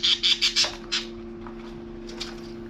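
Pet Winklhofer birds give a quick run of five sharp, close squawks followed by a few fainter calls, then quieter background with a steady hum.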